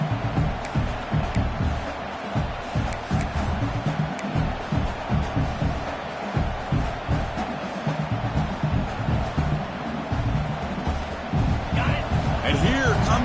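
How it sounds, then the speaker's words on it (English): Big football stadium crowd at a Penn State versus Oregon game, roaring to spur the defense toward a red zone stop; a loud, continuous rumble with rhythmic surges and pulses from a distance, with a commentator talking over it. "This crowd is trying to inspire this defense to make a big red zone stop."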